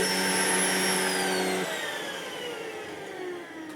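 A vacuum cleaner sucks something up with a loud, close whirring roar and a steady whine; partway through, the pitch drops and the motor note lowers and fades as the object is pulled in.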